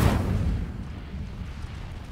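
A fire spell bursts in Hogwarts Legacy as a single loud whooshing boom at the start, then fades into a low rumbling crackle.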